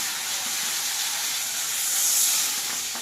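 Water poured into hot masala for a village-style ol and prawn kofta curry sets off a steady, loud hiss of sizzling and steam that runs throughout without pause.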